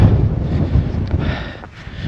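Wind gusts across the microphone on an exposed winter hill walk in the Peak District, a steady loud rushing buffet that swells and eases, heard alone without voices.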